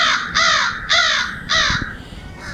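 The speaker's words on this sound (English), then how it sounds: "let's see what they do now, hitting the crow sounds" Crows caw loudly outdoors in the Jersey Pine Barrens, answering recorded crow calls with four harsh, evenly spaced caws close by, then the start of a fifth.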